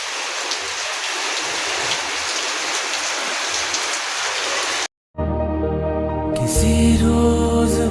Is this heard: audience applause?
no